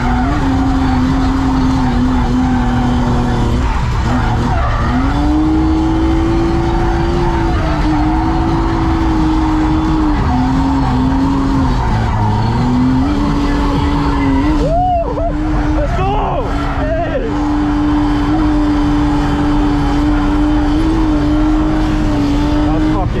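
A race car lapping a wet track during practice, its engine holding a loud, steady whine with dips and rises through corners, accompanied by occasional tire squeal.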